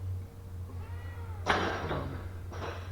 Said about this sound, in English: My cat, sorry.